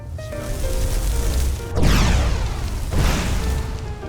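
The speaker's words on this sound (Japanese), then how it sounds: "爆発のような持続時間の長い攻撃をアイラに当てます。" Two heavy booming blasts about a second apart from an explosion-like spell attack in Skyrim, each with a rushing noisy burst and long decaying tail, over a steady rumbling background.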